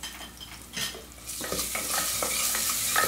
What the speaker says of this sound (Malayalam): ഒന്ന് ഇളക്കി കൊടുക്കുക.